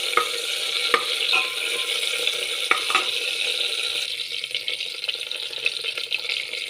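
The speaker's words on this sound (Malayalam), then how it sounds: "പച്ചമുളക്, വറ്റൽമുളക് ഇതൊക്കെ ഇട്ട് കൊടുത്ത് നന്നായിട്ട് ഇളക്കുക" Green chillies, dried red chillies and curry leaves stirred in a hot pan with steady frying sizzle and occasional scraping clicks of a spoon, close and continuous with no talking.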